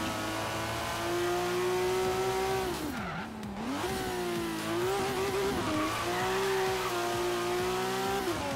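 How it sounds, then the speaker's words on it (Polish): A racing car in Forza Horizon 3 screams through a steady high rev, briefly dips while cornering and screeching its tyres, then climbs back to full throttle, loud and continuous with no talk. "Ładnie brzmi ten samochód."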